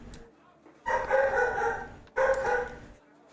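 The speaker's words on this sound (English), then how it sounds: "Oh, you heard the dog bark." A pet dog barks in two loud bursts inside a home, each lasting about a second with a short gap between them, heard close by with no talk.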